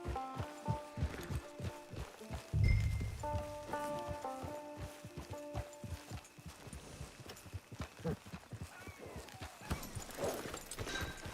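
Horse hooves clop at a walk in Red Dead Redemption 2 Online, a regular near series of dull thuds with game music tones and a brief louder rumble midway, no speech.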